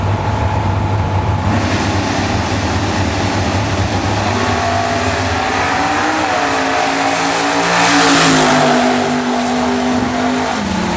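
A 1967 Chevy Camaro drag racing at Jackson Dragway: a loud, sustained engine roar climbing through the gears, swelling to a peak near the end as the car passes close, with a continuous background rumble.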